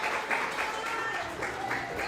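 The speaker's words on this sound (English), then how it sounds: "So can we clap it up for all the coaches on the staff," Audience applause for a girls' flag football coaching staff at a team gathering, a steady continuous patter of clapping running the full length with voices mixed in.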